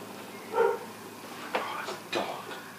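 A dog in the hunting game Dangerous Hunts 2011 gives three short, separate barks at moderate distance over a quiet background.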